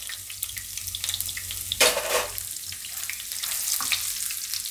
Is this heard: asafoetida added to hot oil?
yes